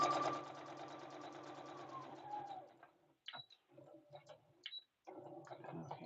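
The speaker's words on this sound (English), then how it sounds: "make sure I back stitch because I don't want everything to unravel that I just finished working hard on" A sewing machine back-stitches fabric, running in a short, near, whirring burst that stops, followed by soft intermittent clicks and a pigeon-like cooing in a quiet room.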